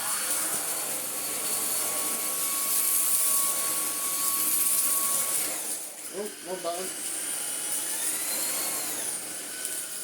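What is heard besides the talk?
cordless vacuum cleaner running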